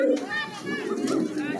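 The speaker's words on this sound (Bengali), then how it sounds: "খুবই চমৎকার একজোড়া কবুতর, টয়া লাহোরি" A pair of Toya Lahori pigeons coo in low, rolling calls close by, mixed with a person's voice and some higher chatter in the background.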